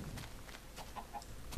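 Chickens clucking in the video game Minecraft, a few soft, scattered clucks at low level over a faint background hum, with no talking.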